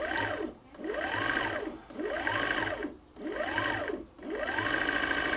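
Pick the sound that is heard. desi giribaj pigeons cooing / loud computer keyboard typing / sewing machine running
sewing machine running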